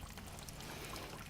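Sparge water from a fly sparger nozzle pours steadily onto a bed of grain in a homebrew mash tun as the wort drains, a continuous soft rushing trickle with no voices.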